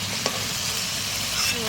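Lobster coated in salt and turmeric fries in a pan with a steady, close sizzle and a few stirring scrapes, no voices over it.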